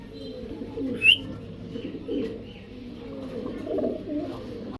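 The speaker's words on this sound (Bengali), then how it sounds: "এক পেয়ার হেলমেট কবুতর" A pair of helmet pigeons gives soft, low coos close by, with a brief chirp near the start and a faint steady hum underneath.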